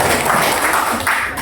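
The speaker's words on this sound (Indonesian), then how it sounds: "kita beri aplaus Bapak Ibu" An audience at an Indonesian presentation or training event applauds, a brief, steady wash of clapping from many hands at close range, filling the whole short moment without pause.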